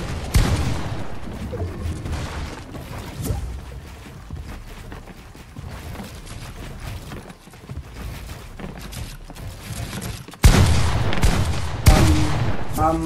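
Gunfire in a Fortnite 1v1 match: repeated bursts of shots and clattering weapon mechanisms, loud and close, with a heavy volley near the end.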